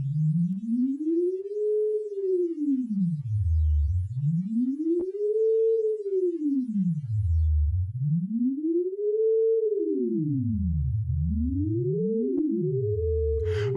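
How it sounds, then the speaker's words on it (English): Two sine-wave modulation cycles in the CrusherX plugin sweep up and down as smooth pitch arcs, repeating about every two seconds, then drift out of phase so the two tones cross and overlap; steady, synthetic and alone. "The phase function brings the modulation cycle, here a sine wave, of both generators out of phase."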